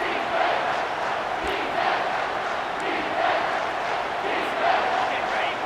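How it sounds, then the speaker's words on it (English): A football stadium crowd roars for the defense on third down, a dense, sustained wall of cheering and shouting that swells in waves throughout. "Decibels rising as the crowd gets behind this defense on 3rd down."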